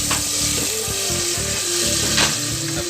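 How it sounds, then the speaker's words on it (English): Black bean paste frying in a few teaspoons of hot oil in a pan, a loud steady sizzle with scraping stirs and occasional clacks of a utensil, continuous and close throughout. "I put black bean paste in it and let it fry for 2 minutes"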